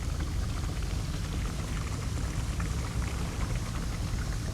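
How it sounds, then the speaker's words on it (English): A waterfall pours down steadily near a beach area, a dense continuous rushing and splashing wash that stays even and close throughout. "I want to see where how the waterfall comes down"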